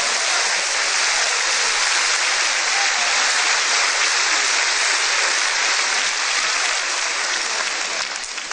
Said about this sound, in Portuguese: Palmas que louvam a Jesus, igreja.